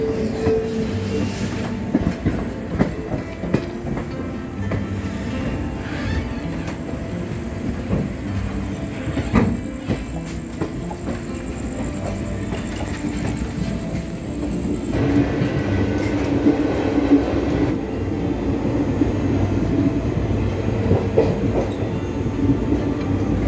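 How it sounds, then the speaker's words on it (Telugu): Heard from inside a passenger train on the Kachiguda to Hubli route as it moves along the rails, a continuous rumble with rhythmic clickety-clack and occasional squeals, growing louder partway through. "ట్రైన్ అయితే బయలుదేరింది"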